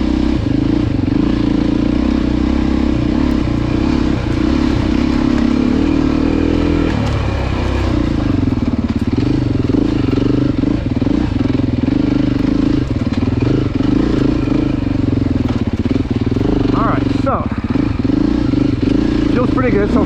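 A Beta 390 dirt bike ridden in full power mode gives a loud continuous engine drone with shifts in pitch as the throttle changes, while a rider talks over it throughout.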